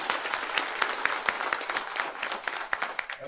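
An audience applauds at a Marathi public gathering with a minister present, steady dense clapping from a crowd filling the whole stretch with sharp individual claps standing out.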